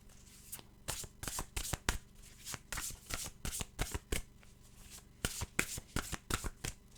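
Someone shuffles a deck of animal oracle cards up close, making a quick series of about fourteen crisp riffling bursts in an uneven rhythm with short pauses between them. No one speaks.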